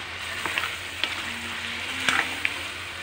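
Boiled chana dal tipped into a hot pan for a curry with potatoes and methi, giving a soft, steady sizzle broken by a few light clicks and scrapes of stirring.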